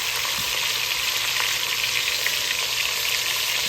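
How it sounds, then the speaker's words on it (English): Tender beef searing in a frying pan, a loud, steady, close sizzle with no talk. "Get a good sear on that on both sides."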